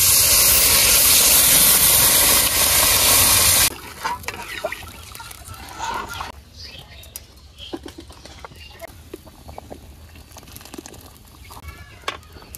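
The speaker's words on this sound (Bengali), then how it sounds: "ডাল ভাজা হয়ে গেছে, এবার আমি পানি দিয়ে দেব। পানি দিয়ে দিলাম।" Water is poured onto lentils frying with spices in a village kitchen, giving a loud, steady hiss for several seconds that then cuts off to quieter bubbling and faint background sounds.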